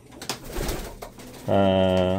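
A pigeon gives a short, loud, close coo, preceded by faint background noise and brief talk.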